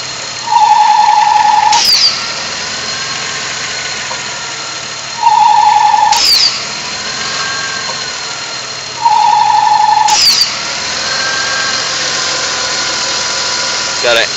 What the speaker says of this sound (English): It's like an inner valve in the engine, and it's coming from the engine